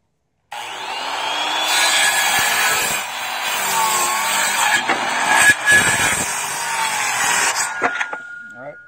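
Saw cutting through a wooden siding board for a small barn, a steady rasping cut lasting most of the stretch with brief interruptions near the end, close and fairly loud.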